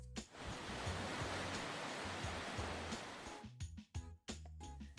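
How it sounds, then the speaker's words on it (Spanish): Sea waves wash in a broad, steady roar for several seconds, then break up into shorter uneven splashes near the end, with no voices. "mientras escuchamos las bellas olas del mar."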